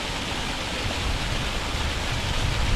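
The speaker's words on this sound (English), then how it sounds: "I bet that is the River Wye." Continuous broadband rush of the River Wye flowing in the Peak District, a steady, close roar of moving water with no voices over it.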